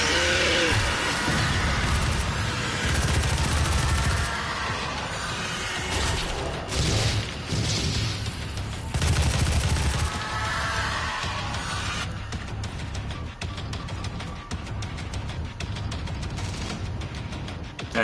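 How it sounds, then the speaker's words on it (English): Micro missiles firing nonstop in Doom 2016 during the Titan's Realm mission, a dense, continuous roar of rapid launches and booming impacts that stays loud for the whole stretch. "we'll basically fire an infinite number of micro missiles"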